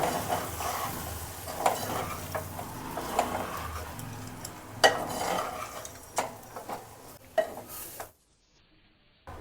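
Cluster bean fry being stirred in a pan with spice powder, a close spatula scraping and clinking against the metal over a soft sizzle, in uneven strokes that stop abruptly near the end.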